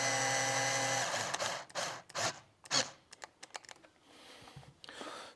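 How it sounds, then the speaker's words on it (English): Power driver running self-tapping screws into plastic while fitting convex mirrors, a close steady motor whine for about a second, then short bursts and clicks as each screw seats. "These are just self-tappers going into plastic"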